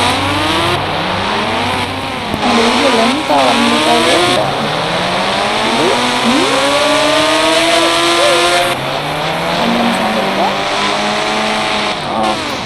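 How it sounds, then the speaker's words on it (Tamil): Motorbikes in the video game Indian Bike Driving 3D whine and rev continuously, with engine pitch sweeping up and down through gear changes and brief tire squeals, while someone talks over the game sounds. "2 பைக்கில் மட்டும் ஒரு ரவுண்டு போவோம்"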